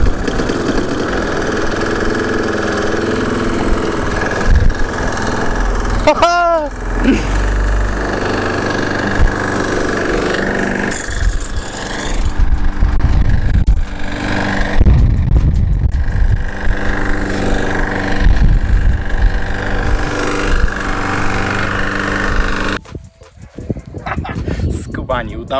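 A 25-year-old, oil-burning Briggs small engine with a zip-tied connecting rod is started on choke, then runs loud and steady at close range with a rough, knocking idle while someone talks and laughs.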